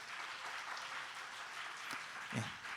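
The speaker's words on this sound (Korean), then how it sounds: "우리 열방교회 다시 한번 박수 드리겠습니다." A church congregation claps at a Friday worship service, a faint, steady patter of many hands heard from a distance with no talk over it.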